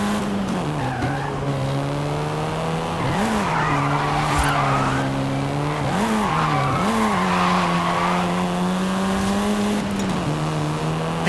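A 7th-generation Volkswagen Golf R drives hard in Forza Horizon 5, its engine holding a steady drone that dips and climbs with gear changes, while tire squeal runs continuously underneath and no one speaks.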